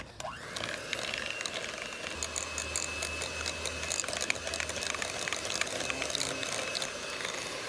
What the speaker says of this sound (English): beat it up, get it nice and creamy